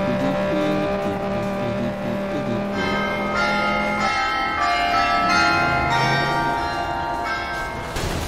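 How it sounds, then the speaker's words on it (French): A home carillon chimes noon in sustained ringing tones, heard over the steady roar of racing car engines from FlatOut 2. "mon carillon qui sonne déjà les midi"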